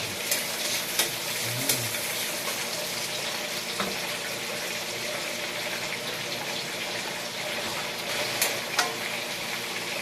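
Garlic and onion frying in a pan, a steady close sizzle running throughout with a few small pops and clinks, no voices.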